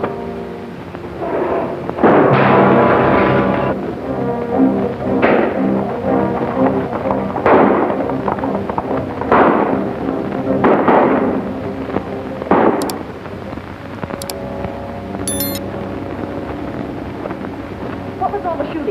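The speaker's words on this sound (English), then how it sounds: "What was all the shooting?" Gunshots ring out in a 1949 American western film: several loud, sharp bangs at irregular intervals over a continuous background score, with a few brief clinks near the end.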